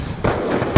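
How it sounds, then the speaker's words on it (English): A flashbang grenade goes off in Call of Duty Black Ops 2, a single sharp, loud burst near the end that follows a short stretch of quieter game noise. "Tossing flash!"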